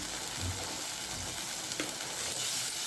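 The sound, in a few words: sautéing ingredients in a pan for green egg phal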